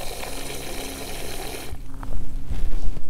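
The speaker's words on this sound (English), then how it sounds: "There's water in there." Water gushes loudly from a deep well in a dense, steady rush, then breaks into choppier splashing and surging for the last second or so.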